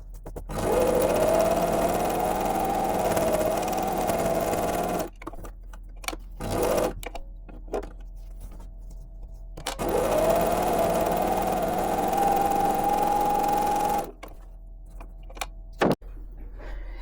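A sewing machine stitches a quilt with yellow rayon embroidery thread, running in two long, steady whirring bursts separated by pauses with a few clicks.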